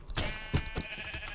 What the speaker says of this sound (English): Okay, all these sheep were stuck in a tree.